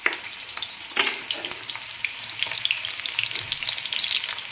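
Chopped onions fry for a chicken pulusu curry: a steady, close sizzle with crackling spatter and a few soft stirring knocks, with no talking.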